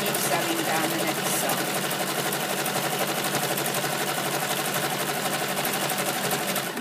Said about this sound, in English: Put the presser foot back down and continue sewing down the next